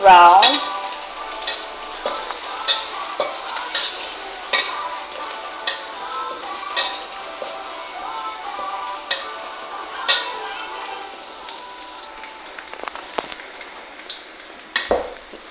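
Ground pork with garlic sizzles and fries in a pan, a continuous crackling hiss close by, punctuated by regular clicks and scrapes of a spatula stirring the meat.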